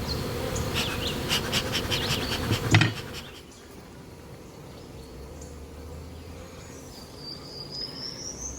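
Swarm of bees around a hive box, buzzing densely and close at first with some knocking, then thinning to a softer drone with single bees passing.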